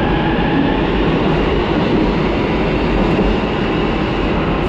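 Continuous loud rumble and whoosh of a metro train in motion in Almaty, Kazakhstan, heard from inside, steady and without talk.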